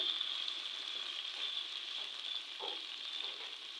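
Vegetables and spices fry in a pan for a Kabyle cabbage tajine, a steady close sizzle and hiss with faint stirring clinks near the end, no voices.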